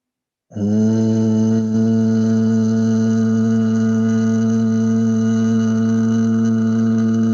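A steady, low humming voice, pranayama humming breath, begins after a short silence and holds one even, resonant tone for several seconds without a break.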